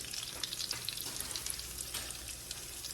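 Onions and crab meat fry in a skillet, giving a dense, steady close sizzle with crackling pops throughout.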